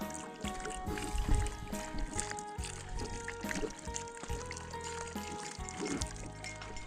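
A steady gush of water pours from a pipe fed by a mountain stream at a tribal hill village, a continuous close splashing and flowing sound with no talk.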